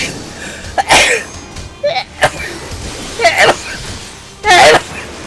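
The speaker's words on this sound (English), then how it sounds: "sneezing in the middle of the fight is the worst" Several sneezes and sneeze-like bursts come from one nearby person, in four sharp, loud outbursts spread over a few seconds with quiet breathing between them.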